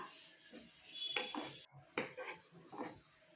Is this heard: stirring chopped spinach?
yes